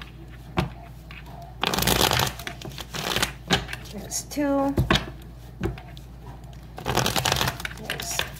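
A deck of tarot cards is shuffled in short riffling bursts, close and crisp, separated by stretches where a person speaks.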